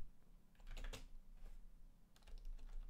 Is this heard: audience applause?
no